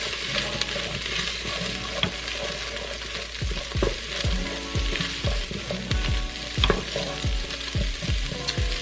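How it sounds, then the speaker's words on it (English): Onions sauté in an Instant Pot with a constant close sizzle, and a spoon or spatula scrapes repeatedly through the pan in uneven strokes. No one speaks. "we're going to saute these onions until they become translucent"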